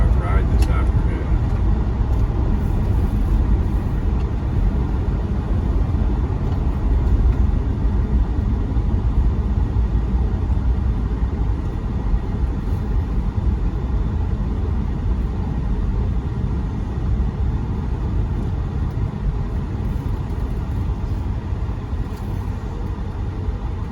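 A manual base C6 Corvette with an LS2 V8 drives with a steady, close, low engine rumble and road noise that holds at an even level throughout.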